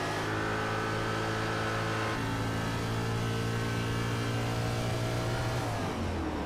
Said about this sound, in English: he's shutting off the engine completely right now